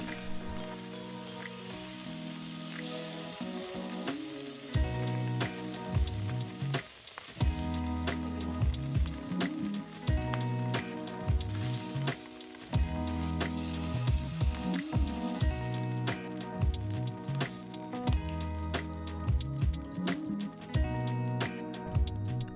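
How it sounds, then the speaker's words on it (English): Tuna searing in a very hot pan gives a continuous sizzle with crackling pops, steady and close, with no talking. "the importance of having a really hot pan for this is so that you could get a nice sear on each side"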